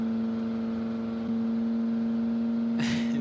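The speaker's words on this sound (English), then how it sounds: "This engine is struggling, you can tell." The air-cooled V10 engine of a truck in the BeamNG driving game labors under load with a steady, loud, droning hum, and a brief rough burst comes near the end.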